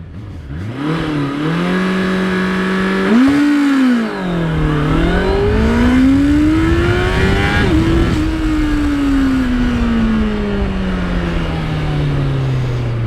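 A 2025 Honda CBR650R E-Clutch motorcycle launches and accelerates hard, its engine note climbing through a revving rise, dipping at a shift, then holding a long loud drone that slowly falls as it pulls away.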